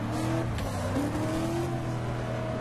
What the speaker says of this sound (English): he was in a Porsche 718